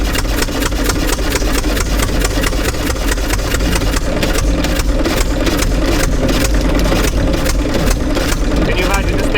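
Hit-and-miss engine on a power-assist car idling in a steady loud chugging rumble throughout, with people talking over it nearby.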